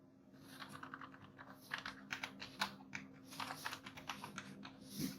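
Quiet, steady typing on a computer keyboard while entering data into a spreadsheet, bursts of soft key clicks in an irregular rhythm.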